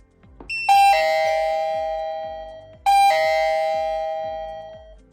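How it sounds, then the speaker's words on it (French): A Bikonek keypad doorbell plays two clear electronic ding-dong chimes, each ringing out and slowly decaying, close and loud with no talk. "Il suffit d'appuyer sur la cloche juste ici afin de lancer la sonnette sur le B-Screen"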